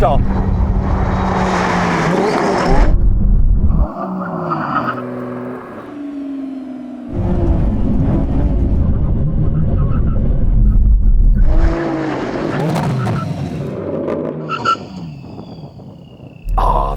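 A Lamborghini Revuelto racing car roars at high revs, shifting up and down in loud surging bursts, with lulls as it slows and brakes, while a voice talks over the engine noise.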